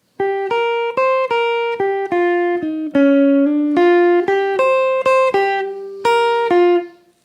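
A single jazz guitar picks the melodic line of a solo in clean, distinct notes in an even rhythm, each sustaining briefly, playing alone before fading out at the end.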